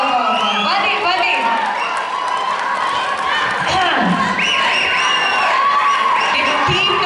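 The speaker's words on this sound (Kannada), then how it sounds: "ಎಷ್ಟು ಜನ ಹೆಣ್ಮಕ್ಳು ನಿಮಗಾಗಿ ನಿಂತ್ಕೊಂಡು ಚಪ್ಪಾಳೆ ಹೊಡಿದ್ದಾರೆ." A group of women stand and applaud, with clapping blended into crowd cheering and scattered whoops, continuous and fairly loud, with voices talking over it.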